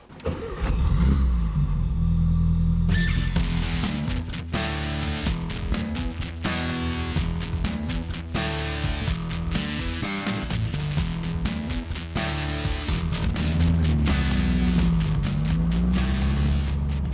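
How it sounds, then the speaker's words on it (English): A 1972 Volkswagen Karmann Ghia convertible with an aftermarket exhaust is driven, its engine droning loud and close with a pitch that rises and falls through the drive. "The aftermarket exhaust in this car has a great sound to it."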